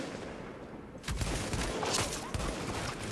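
Gunfire in The Division, a quick run of sharp shots beginning about a second in and continuing in bursts, moderately loud over game ambience.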